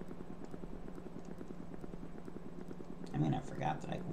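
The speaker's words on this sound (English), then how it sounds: "let's get down here to our helicopter." Helicopter in the Factorio video game, a steady pulsing rotor thump running continuously, with a voice speaking over it near the end.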